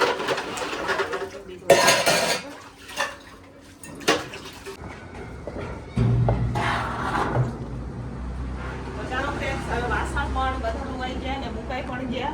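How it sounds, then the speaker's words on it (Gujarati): Dishes, pots and pans clatter and clink as they are washed by hand in a home kitchen, with scattered metallic knocks and scraping over steady running-water noise, and voices talking in the background. "તો ચાલો ફટાફટ હવે વાસણને આપણે ધોઈ નાખીએ."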